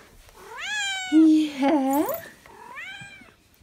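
A house cat meows several times up close, with long drawn-out rising and falling cries, and a person briefly speaks in between.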